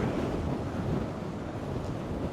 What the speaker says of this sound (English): So it'll be mainly the sound of the waves smashing against the steps.